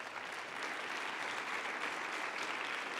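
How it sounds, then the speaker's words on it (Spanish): A church congregation breaks into applause, a thick, steady wall of many hands clapping at once that stays loud and unbroken throughout. "Aleluya, dale un aplauso al Rey de Reyes."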